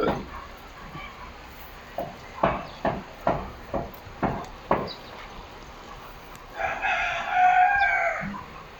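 Chickens cluck and call near a rural house, with a burst of sharp clucks repeating in a regular series, followed by a loud drawn-out rooster crow toward the end; no talking.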